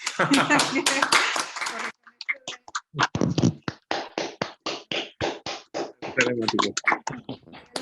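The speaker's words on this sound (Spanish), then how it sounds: "Si les parece, podemos quitar los micrófonos y aplaudirle." Audience at a university talk on video games in the general media applauding; a dense burst of clapping sits under a speaking voice at first, then continues as scattered, uneven claps.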